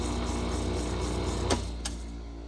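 An old Sioux valve grinder runs with a steady mechanical hum and whine, punctuated by two brief sharp clicks or scrapes near the end.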